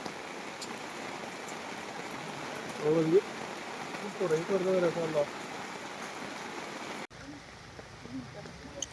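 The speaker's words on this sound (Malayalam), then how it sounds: "മഴ മാറുന്നത് വരെ ഇവിടെ നിൽക്കാം" Steady rain falls throughout at a forest elephant waterhole, a dense hiss with a few brief voices murmuring partway through, then the rain sounds softer and closer near the end.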